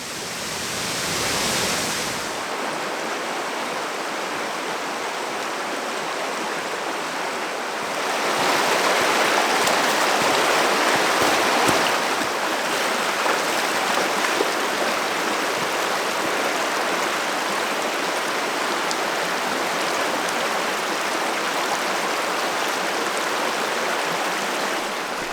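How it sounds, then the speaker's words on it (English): A waterfall and stream on the North Fork of the Virgin River roar with a steady, dense wash of rushing water that swells louder partway through and keeps going without a break. "It's interesting how this waterfall doesn't really go over a cliff."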